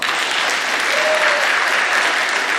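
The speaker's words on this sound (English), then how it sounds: "Give them a round of applause." Steady, full applause from the crowd at a middle school awards ceremony, honoring a league champion eighth-grade boys track team, dense clapping without a break.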